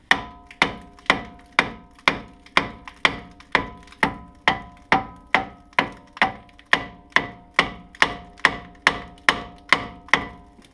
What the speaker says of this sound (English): give it, the housing, or the caliper rather, a few decent whacks, that you know, that'll free that up a little bit